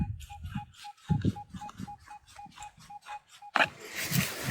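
A repeating electronic beep pulses steadily from a Minelab Equinox 900 metal detector, with shuffling and digging noises underneath and a burst of rustling near the end.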